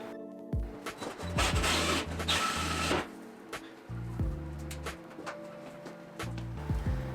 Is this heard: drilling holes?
yes